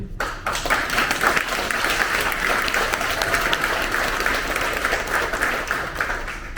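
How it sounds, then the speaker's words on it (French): Sustained applause from a large crowd honouring the hospital volunteers at a Lourdes pilgrimage gathering, dense steady clapping filling the space for several seconds without talk. "Je vous propose d'applaudir aussi tous les hospitaliers."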